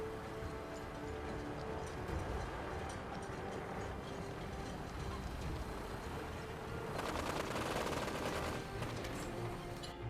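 Gunfire in Fallout 4 aimed at a vertibird, rapid bursts of shots over a continuous droning engine and hum, intensifying into a dense rattling volley toward the end, fairly loud and without talk.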